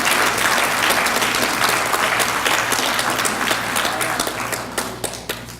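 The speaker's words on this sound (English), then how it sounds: "Please, let's give them a hand of applause because they were all instrumental." Audience applause for the Bridgeport Housing Authority Commission members at a jobs and contracting forum, a dense, steady clapping from a sizeable crowd that holds for several seconds and thins slightly toward the end.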